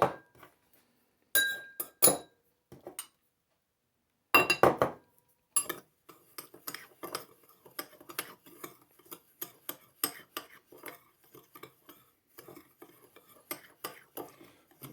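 Cocoa powder and brown sugar stirred together in a bowl, a close series of sharp clinks and scrapes of a utensil against the bowl, bursty at first and then a quicker steady rhythm of light taps.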